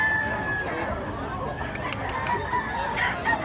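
A stag rooster crows amid a busy outdoor bird market in Mantalungon, Cebu, the call moderately loud over a constant crowd murmur and other distant fowl.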